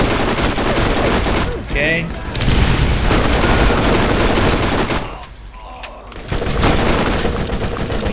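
Rapid gunfire in Borderlands, loud, close bursts of automatic shooting with brief lulls and a quieter gap near the end before the firing resumes; someone says a word partway through.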